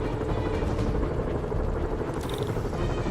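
A helicopter in a Spider-Man video game makes a dense, continuous rotor drone that stays loud and close for the whole moment, with no speech over it.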